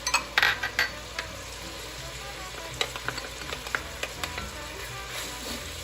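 Red chili peppers and garlic hit a hot pan for homemade jambalaya, giving a steady close sizzle broken by a few sharp clinks and scrapes as the pan is stirred, with no talking.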